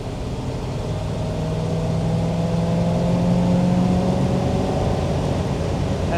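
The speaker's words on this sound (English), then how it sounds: "this motor is just purring like a kitten. It's purring like a Thunderbird." A 1956 Ford Thunderbird convertible's engine running steadily while driving, a smooth, even drone with a faint rising tonal whine, fairly loud and continuous with no talking.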